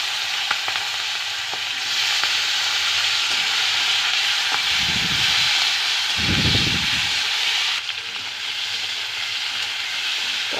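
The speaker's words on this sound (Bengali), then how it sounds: "এবার দিয়ে দেব চেরা কাঁচা লঙ্কা আর দেব টমেটো কুচি" Slit green chillies and chopped tomato fry in hot oil with bay leaf and radhuni tempering for a rui fish curry, a steady close sizzle with two louder bursts of spattering as the pieces are stirred.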